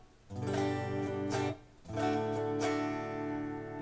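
A distorted electric guitar on its neck pickup, part of a parts-caster with a Floyd Rose system, plays two sustained chords, the first with a rapid tremolo-like pulse, then rings out with a warm, thick tone.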